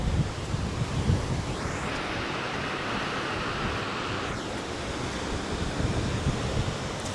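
Ocean waves on a Riviera Maya beach, a continuous broad wash of surf heard from a hotel room with an ocean view, mixed with steady wind noise buffeting the microphone and no talking.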